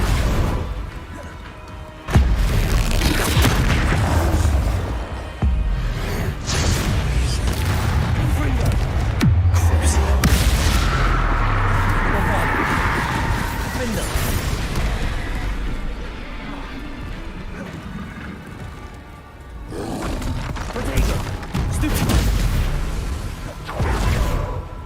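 Spell explosions from Bombarda and Confringo in Hogwarts Legacy burst in with sudden loud booms and whooshes, giving way to a long rumbling roar that fades midway, then returns with further blasts near the end.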